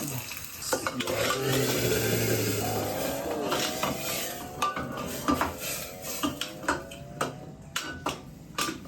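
Spices including asafoetida crackle and sizzle in hot oil for tempering dal, with a spoon scraping and clinking against the pan in short bursts toward the end.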